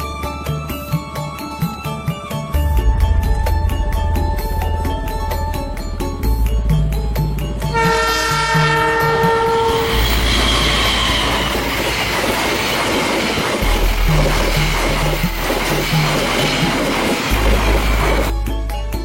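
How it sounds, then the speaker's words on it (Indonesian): An Argo Wilis passenger train from Bandung passes close by with a loud, steady rumble and clatter of wheels. A sustained horn blast sounds partway through, and the roar continues as the carriages roll past. "Kami juga sempat merekam Argo Wilis dari Bandung lewat sini."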